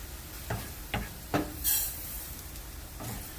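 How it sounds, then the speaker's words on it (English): Arborio rice poured into a hot pan for mushroom risotto, a few soft scattered rattles and stirring scrapes over a low sizzle, with one brief bright hiss partway through. "now I'm going to add the rice"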